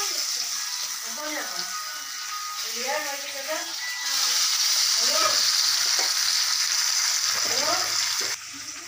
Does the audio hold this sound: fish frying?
yes